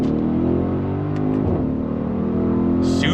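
A 2025 Audi SQ7 performance SUV accelerating hard with a loud, deep engine roar heard from inside, the pitch rising and dipping through a smooth downshift, with no talk.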